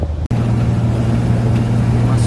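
A truck accelerating on a highway, with a steady low engine drone and droning harmonics running continuously and loud throughout, nearby and without talk apart from a brief dropout near the start.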